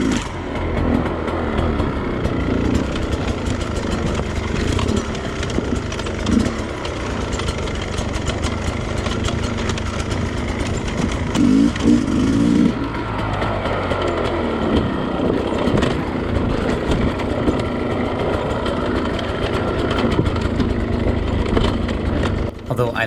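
A Sherco 250SE factory motorcycle engine runs loud and close through the whole stretch, a steady buzzing drone that rises and falls with throttle, with a rider talking over it.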